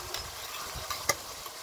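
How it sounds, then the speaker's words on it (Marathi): Ginger-garlic paste and chicken sautéing in a pan over a village wood-fired stove, a steady soft sizzle with a few sharp scrapes of a spoon stirring. "परतवून घ्यायचे, तिचा कच्चेपणा जाईपर्यंत परतवून घ्यायचे।"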